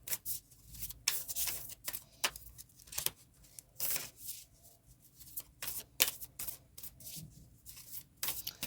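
Tarot cards are shuffled and drawn close by, soft quiet riffles and slides coming in short irregular bursts with gaps between them.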